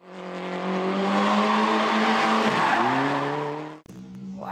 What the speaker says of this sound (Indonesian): Ini juga ada mobil balap warna kuning teman-teman.